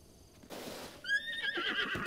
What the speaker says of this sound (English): It's a junior horse.